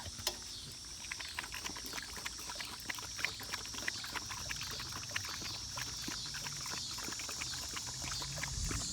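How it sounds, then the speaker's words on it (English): Water is poured into a dogs' bowl, a faint, splashy trickle with small clinks and drips, quiet and close, with no talking. "So with water, I pour the water"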